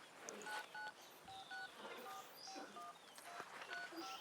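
A quick run of telephone dialing tones, short electronic beeps in an uneven rhythm over a faint, hissy background.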